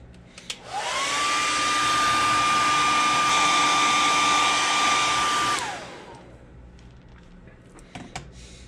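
A hair dryer blows on fresh paint on a fishing lure, rising to a steady loud whine with a tonal hum for about five seconds, then winding down and cutting off, leaving quiet handling sounds.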